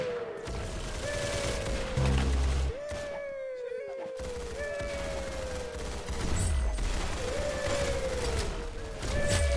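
Loud bursts of video game gunfire in a shootout, with rapid volleys and booming shots repeating through the whole stretch and a brief lull near the middle.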